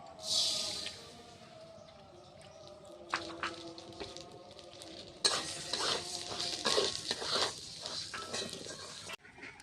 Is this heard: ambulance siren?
no